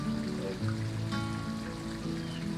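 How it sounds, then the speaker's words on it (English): A bubbling brook on the Furneaux Creek nature trail gives a steady, gentle babble of running water that fills the background evenly throughout, with no voices over it. "just hear the bubbling brook."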